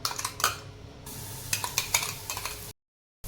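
Crushed green chilli thecha frying in hot oil in a kadhai, a close hiss with repeated scraping and clinking strokes of a spoon against the pan, ending abruptly.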